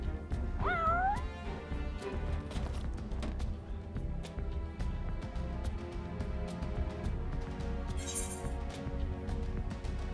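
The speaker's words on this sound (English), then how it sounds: "What's this cat doing here?" A cat meows briefly in Final Fantasy XIV, a short rising cry near the start over steady game music and ambient background sound.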